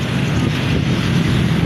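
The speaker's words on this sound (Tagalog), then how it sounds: "Mahangin po dito." Strong wind buffets the microphone in a continuous low roar, loud and unbroken throughout, while walking from Pag-asa to Alabang.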